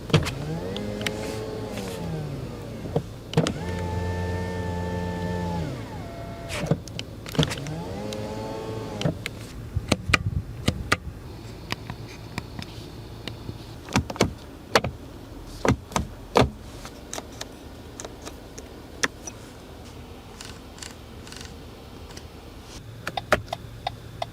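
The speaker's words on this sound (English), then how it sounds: "all of the buttons and dials and switches and things that you can interface with in here" A series of mechanical clicks and knocks from buttons, dials and switches inside a 2022 Lexus NX 350, with a power window motor whirring near the start, close and fairly crisp.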